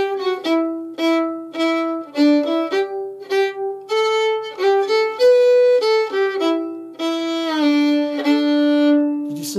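A solo fiddle plays the tune Star of the County Down with sliding notes, a clear, close melody of sustained bowed tones and quick changes, with no talking.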